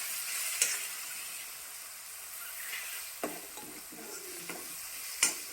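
Tomatoes go into a frying spiced cucumber curry and get stirred, with a soft continuous sizzle and a few sharp spoon scrapes and clanks against the pan at irregular intervals.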